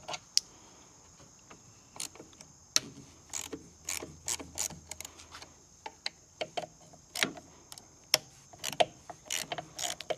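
A socket ratchet clicks in short, irregular bursts of sharp ticks while loosening bolts on the carburetor of a 1980s Honda 10hp four-stroke outboard motor, close and fairly quiet, with no talking.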